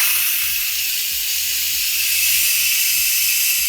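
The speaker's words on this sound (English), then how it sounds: "We gotta depressurize the steam." An Instant Pot electric pressure cooker vents steam while depressurizing after keep-warm mode, giving a loud, steady broadband hiss that runs continuously without a break, with faint low mechanical rumbles beneath.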